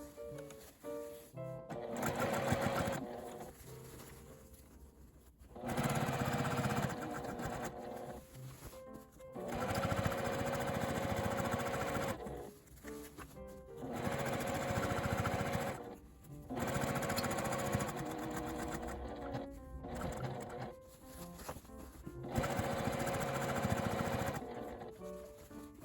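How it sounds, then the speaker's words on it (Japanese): An electric sewing machine runs slowly through the thick seam allowance at a panel join of a lined fold-gusset tote bag made from IKEA fabric, whirring in several bursts of steady stitching with short pauses between, close and clear. "この切り替えのところは少し縫い代が固まっているので、ゆっくりミシンを回します"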